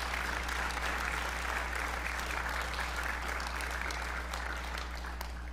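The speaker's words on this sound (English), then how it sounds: "Can we give God just another round of applause?" A church congregation at Longview First Assembly gives a round of applause, steady dense clapping from a crowd that holds for several seconds over a low hum.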